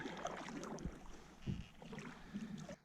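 A kayak being paddled toward shore, with soft water splashes and wind noise, fairly close and without talk.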